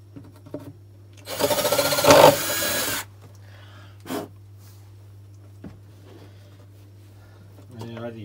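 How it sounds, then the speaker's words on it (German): A power drill whirs in one loud burst of about a second and a half while a wooden PC case is being built, followed by brief knocks and handling noises over a steady low hum. "dann muss ich mal ganz kurz mal hier nochmal den Bohrer einsetzen"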